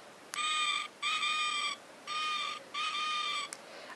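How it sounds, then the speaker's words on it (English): A novelty owl pen, pressed to play its owl noise, gives four even electronic hoots, each a bright buzzy tone lasting about half a second with short gaps. The sound is close and clear, with no talking. "I have a pen that does it, and you're just pressing the owl and it does that noise"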